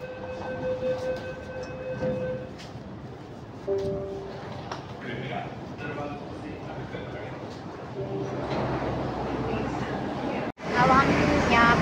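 A metro train ride in India, with steady rolling rumble, whirring tones and a rising and falling pitch of the carriage running. Near the end there is a short drop, then loud, bright clattering noise.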